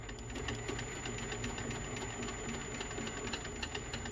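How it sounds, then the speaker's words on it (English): A machine tool takes a scratch pass on a part for an R1 turbo spaceframe mini chassis with power steering, giving a steady, fast, even whirring and rattling that runs unbroken throughout with no talk. "we are at the right depth for a scratch pass. So I'm just going to do that."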